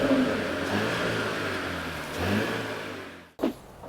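Mercedes CLE 300 coupe engine running while parked and cold, with a steady, slightly diesel-like drone and a mild swell of revs near the middle, then cutting off sharply before a brief thump and a lower hum return.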